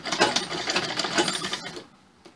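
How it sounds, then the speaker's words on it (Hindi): A sewing machine stitching a blouse runs in rapid, rhythmic bursts of needle clatter, close and fairly loud, then stops abruptly into near silence near the end. "ये देखिए अब आपने इस तरीके से सिलाई करनी है।"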